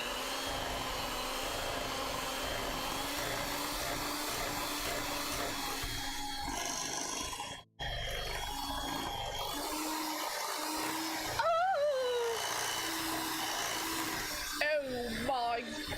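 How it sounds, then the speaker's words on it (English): Peanut butter baking batter being mixed, likely with an electric mixer, a steady whirring drone throughout with a brief pause midway and a few squeaky bursts near the end. "Okay, we're gonna mix this."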